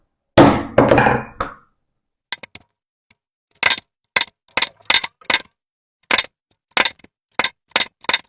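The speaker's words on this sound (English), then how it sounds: "Once you have completed hammering, this is the loud part, you will have holes." A few loud opening blows, then sharp, evenly spaced nylon mallet strikes on a leather hole punch, about a dozen crisp knocks with short pauses between.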